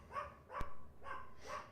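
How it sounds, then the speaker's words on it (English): A dog barks four times in a quick, evenly spaced series, faint and somewhat distant, with a sharp click partway through. "And my dog's barking."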